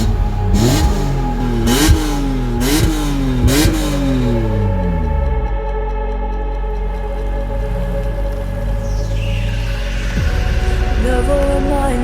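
A BMW E46 M3 with an SMG gearbox revs hard through several quick upshifts, each rising engine note dropping sharply at the shift, then settles into a steady drone as it cruises on.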